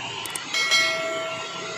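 A hand blender switches on at slow speed to mix flour dough with hot water and salt, a steady, close motor whine starting after a couple of light taps.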